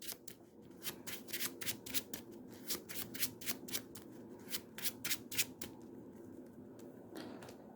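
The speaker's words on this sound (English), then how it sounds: "And these get shuffled into the encounter deck." Playing cards from a Marvel Champions card game deck are shuffled by hand, producing a rapid series of crisp riffling bursts, fairly close and moderately loud, with no talking.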